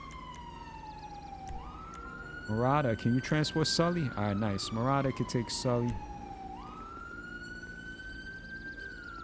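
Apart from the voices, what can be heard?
police siren in video game GTA 5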